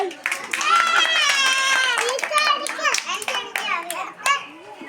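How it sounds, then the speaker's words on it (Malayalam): Young children clapping in applause for a classmate during a Malayalam alphabet game, a brief burst of hand claps mixed with excited kids' voices and chatter. "ജിയയ്ക്ക് എല്ലാവരും കൈയടി കൊടുത്തേ"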